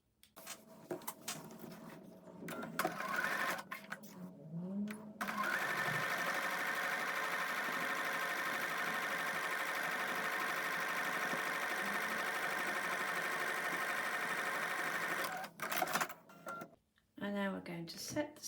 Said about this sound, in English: And take that to the sewing machine.